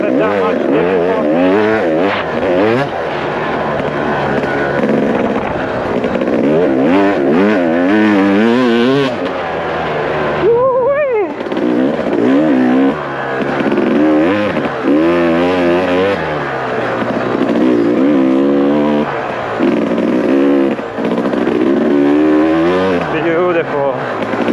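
A Yamaha or KTM dirt motorcycle rides through sand, its engine constantly revving up and down and wavering as the bike slides about, loud and close for the whole stretch, with a voice talking over it.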